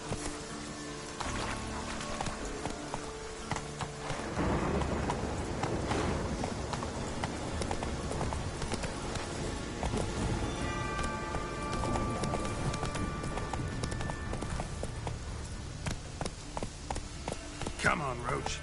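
Hooves of Roach the horse galloping in The Witcher 3, a fast, continuous pounding under a busy bed of game music and ambience that holds from start to finish.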